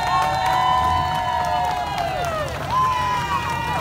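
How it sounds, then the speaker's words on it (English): A crowd at the Great Race 2018 finish line in Halifax, Nova Scotia, with the Fairport, New York cheering squad shouting and cheering loudly and continuously, mixed with crowd noise, whistles and sustained bright tones throughout. "Where is my Fairport, New York cheering squad?"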